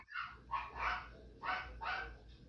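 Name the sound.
dogs barking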